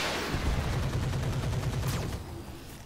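Mech weapons fire together in the game Roguetech as a dense barrage of loud overlapping gunfire and explosive bursts. A thin rising whine cuts in near the end as the volley thins and fades.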